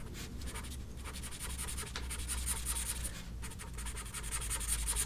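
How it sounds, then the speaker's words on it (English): A pencil shades on paper in continuous close scratchy strokes, a steady rhythmic rubbing and scraping with brief pauses and no speech. "I'm going to draw the shadow down"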